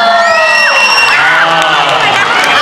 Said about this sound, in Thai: ปรบมือให้ทั้งสองคนด้วยนะ